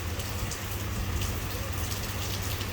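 Steady rain falling in Benidorm, a dense, even hiss of drops on outdoor surfaces with a low constant rumble underneath, no pauses across the whole stretch.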